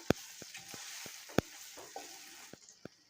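Onions sizzling in hot oil with cumin, coriander powder, garam masala and dry chilli powder, stirred steadily with sharp utensil taps against the pan, a close, bright frying hiss underneath.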